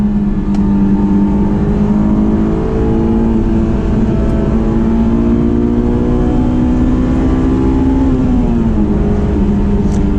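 Honda S2000 engine climbing hard into VTEC under acceleration, a loud sustained high-revving wail that rises steadily, dips at a shift near the end, then rises again, heard from inside the car with no talking.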